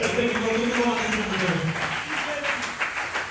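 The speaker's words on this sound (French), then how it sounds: "Applaudissez pour le Seigneur." A crowd applauds steadily throughout, the clapping running under a raised voice.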